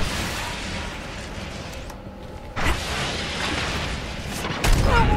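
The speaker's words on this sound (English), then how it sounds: "I see a big explosion coming towards me." A large explosion in the video game Destiny rumbles in as a loud, sustained roar of noise, swelling abruptly twice with heavy booming surges.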